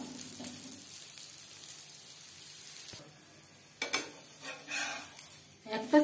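A cauliflower paratha fries in refined oil on a tawa with a soft, steady sizzle, followed by a few quieter gaps and sharper bursts of spatter and pan handling.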